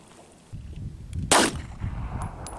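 A single 9mm gunshot firing a Federal Premium Hydra-Shok round into a fiberglass armor panel, one sharp loud crack at close range over a low rumbling background.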